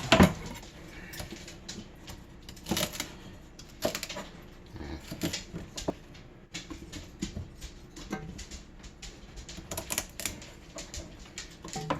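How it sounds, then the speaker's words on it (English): A knife chops vegetables into big cubes on a cutting board for white turkey chili, giving irregular, close, crisp knocks and taps, some sharper than others, with no voices. "And then you cut it up in big cubes."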